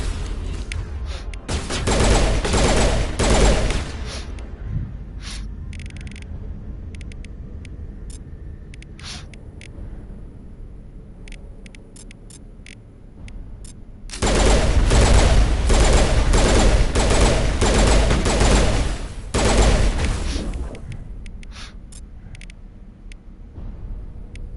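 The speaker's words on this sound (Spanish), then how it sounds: "¿Qué demonios hace Garrus con una escopeta, güey?" Loud gunfire in the video game Mass Effect Legendary Edition, including shotgun blasts, comes in two dense bursts of rapid shots, with quieter scattered fire between them.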